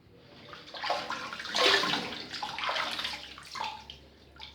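Water splashes and gurgles in a basin as a face is rinsed after a wet shave with a vintage safety blade, a few close, uneven bursts of swishing and dripping with no talk.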